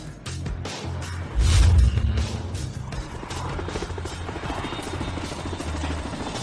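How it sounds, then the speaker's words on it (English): A helicopter roars close by with a thumping low rotor beat, swelling to a loud peak early on and then continuing as a steady whir. "The helicopter in the front belongs to the Xiao family from the capital"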